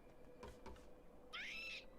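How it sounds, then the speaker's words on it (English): A real bird calls in the background, a single short rising-then-falling chirp near the end, faint and distant, after a couple of soft low thumps. "That was an actual bird, okay."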